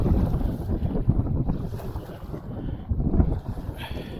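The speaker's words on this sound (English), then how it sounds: "Wind is pushing me out there" Steady wind gusting over a lake during early spring kayak bass fishing, a rough, continuous roar buffeting close to the microphone with faint water lapping beneath.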